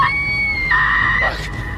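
A man screams in a thriller film from 2020, a sustained high, strained cry that wavers in pitch over about a second and a half, loud and close, with faint background tone beneath.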